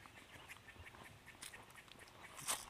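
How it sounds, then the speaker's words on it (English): Birds make faint quacking, duck-like calls outdoors, several soft sporadic notes with one louder call near the end, distant and quiet. "Sorry, birds or squirrels or something."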